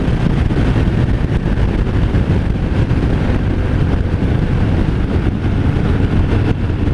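A 2018 Harley-Davidson Fat Bob 114 motorcycle cruising at 73 mph, a loud, steady engine drone buried in heavy wind rush throughout.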